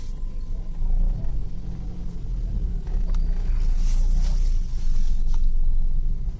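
A car engine idles steadily after a restart, a continuous low rumble with faint clicks and some higher hiss partway through, and no voices.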